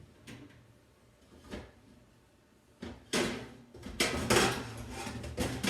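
Cast iron skillet taken out and handled in a home kitchen, heard as several clanking, rattling knocks of metal against a stovetop or cupboard, sparse at first and then louder and busier.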